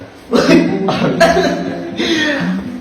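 Several rough coughs in quick succession, loud and close, with a steady background hum beneath them.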